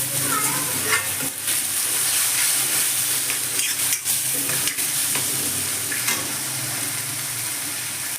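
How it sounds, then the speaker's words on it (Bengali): Chili paneer gravy with green capsicum and a pinch of salt being stirred in a pan, a spoon scraping steadily over a continuous close, loud sizzle and frying hiss. "দিয়ে নেড়ে নেব।"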